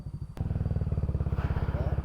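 A motorcycle engine idling close by, with a rapid, steady throbbing putter that runs throughout.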